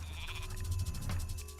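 A goat bleats in the real-time strategy game Age of Mythology, a short wavering cry over a steady low in-game ambience and faint clicking, close and clear, with no talking.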